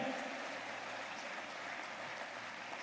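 Faint, distant applause from a large political rally crowd in Rajasthan greeting the party's national president: a steady, even wash of clapping with no break.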